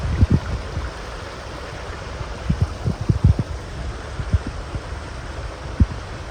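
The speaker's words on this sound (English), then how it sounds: "This isn't supposed to be a giant river, I don't think, but it sure sounds like it." Water rushes steadily down a stream beside a mountain trail in the Green Mountain National Forest. It makes a continuous broadband roar with small irregular splashes and gurgles, moderately loud and with no voices.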